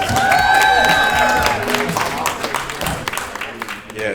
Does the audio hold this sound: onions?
no